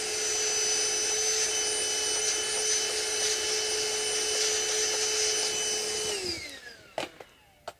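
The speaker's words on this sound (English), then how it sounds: "just vacuum it." Vacuum cleaner whines steadily and close while cleaning a lacquered guitar headstock during repair, then spins down around the six-second mark, followed by a few sharp knocks.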